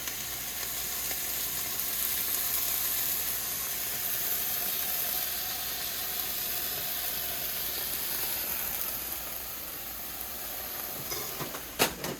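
Bacon strips laid lengthwise in a pan sizzle and fry steadily, a constant close hiss and crackle running alone with no talk, plus a small knock near the end.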